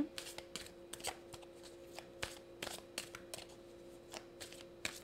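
Tarot cards are shuffled by hand in a quiet room, producing soft, irregular flutters and crisp riffling snaps close by, with a faint steady hum behind them.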